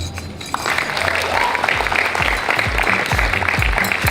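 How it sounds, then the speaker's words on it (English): Wedding reception guests applaud steadily with dense, continuous clapping, a little low speech mixed in under the sustained crowd noise. "Let's give her a big round of applause."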